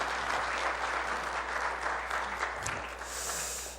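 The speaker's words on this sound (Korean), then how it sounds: "예, 뭐 이쯤 되면 박수 나와야 되는데" Audience applause at a talk: a steady wash of many hands clapping at moderate volume, sustained for several seconds with a soft tail, somewhat distant as if heard from the stage.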